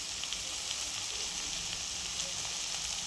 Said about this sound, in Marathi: छान असं परतून घेणार आहोत